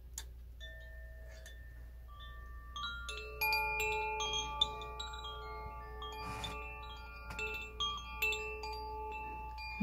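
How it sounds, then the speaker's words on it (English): An Earth Koshi chime rings in a quiet sound-bath room, a series of clear, overlapping metallic tones struck one after another and left to sustain and blend as they slowly decay. "This is the Earth Koshi chime."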